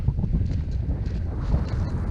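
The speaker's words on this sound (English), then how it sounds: "it's in a windy spot as well" Wind buffets an exposed wild camp spot on the Plashetts Peninsula in Kielder Water Forest, a steady, close, gusty rumble with no voices.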